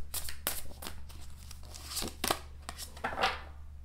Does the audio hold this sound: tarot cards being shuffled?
yes